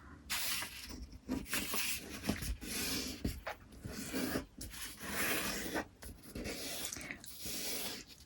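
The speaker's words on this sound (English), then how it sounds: "Turn it round and fold it in half in the other direction." Paper being folded for an origami Japanese tato box with eight sides, creased by fingernails: continuous close rustling, rubbing and scraping of sheets, with soft swishes and brief pauses between strokes.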